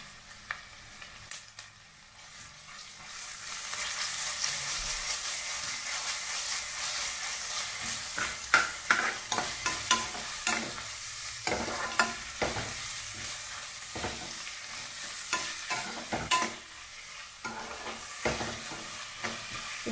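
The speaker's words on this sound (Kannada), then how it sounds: "ಸ್ವಲ್ಪ ಫ್ರೈ ಆಗಿದೆ, ಇದಕ್ಕೆ ಅಲ್ಲ ಬೆಳ್ಳುಳ್ಳಿ ಪೇಸ್ಟ್ ಹಾಕ್ತಾ ಇದ್ದೀನಿ" Garlic paste frying with onions in a pan for Karnataka-style tomato bath, a steady close sizzle with repeated scraping strokes of a spoon stirring, heavier and more rhythmic in the second half.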